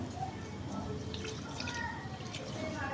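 Rice is rinsed in water for chicken biryani, giving a steady close sloshing and trickling of water with faint drips throughout, alone without talk.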